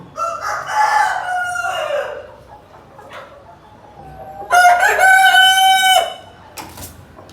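A big black Tiger breed rooster of over five kilograms, among feeding hens on a farm, crows twice, loud and close, with a long ringing call at the start, another after a pause, and short clucks in between.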